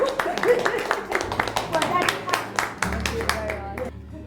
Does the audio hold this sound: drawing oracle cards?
no